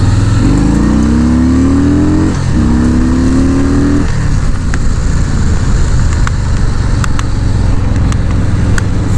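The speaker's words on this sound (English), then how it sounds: "Feels so weird just dogging on a motorcycle." A Harley-Davidson Fat Boy motorcycle engine revs up in two rising pulls, then settles into a loud, rough rumble close by.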